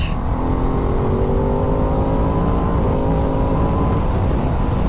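A 2022 Ducati DesertX adventure motorcycle with a V-twin engine pulls hard, its close, loud droning exhaust note climbing steadily in pitch as it accelerates, with no talking over it.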